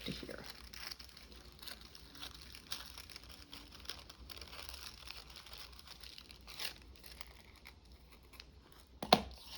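Scissors cut through paper for a collage board, with crinkling and tearing sounds, small snips and rustles throughout and a sharper crunch near the end.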